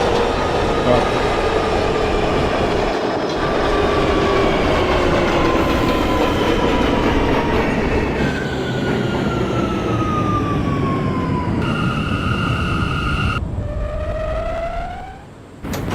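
An R179 subway train on the C local line runs in the openbve simulator, with a loud steady rumble, clattering wheels and rising and falling electric motor whines as it accelerates, then a brief drop near the end.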